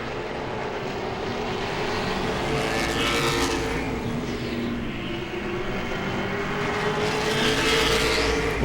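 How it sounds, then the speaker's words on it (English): Late model race cars at Langley Speedway roaring around the oval, a continuous engine drone with cars swelling past at moderate distance. "Jeff Shiflett goes by, the 99."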